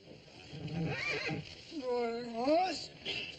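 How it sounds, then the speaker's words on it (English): A horse whinnies in a Western drama scene, a rising then wavering neigh heard at moderate distance, preceded by rumbling outdoor noise and a voice. "Horse?"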